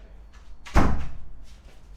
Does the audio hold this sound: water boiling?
no